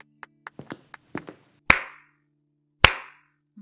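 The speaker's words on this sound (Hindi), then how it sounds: "तभी उन्हें किसी के ताली बजाने की आवाज आई" A few sharp hand claps sound close by in a quick uneven burst, followed by two louder, isolated claps spaced about a second apart, with no talking.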